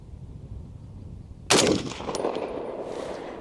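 A Springfield Armory M1A Standard rifle with a walnut stock fires a single sharp shot that bursts out after quiet background noise and trails off in a short ringing tail.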